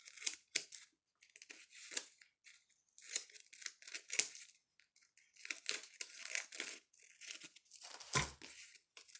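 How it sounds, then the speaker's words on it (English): Scissors snip through the edges of card stock for a bookmark in short separate bursts, crisp and close, with brief pauses between cuts and no talking. "I will cut the edges with my scissors."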